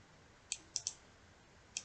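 Four sharp, faint mouse clicks in quick, uneven succession while copying and pasting a password, isolated against a quiet background.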